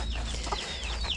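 Chickens cluck and chirp softly near a coop under construction, several short calls scattered over a steady low outdoor rumble.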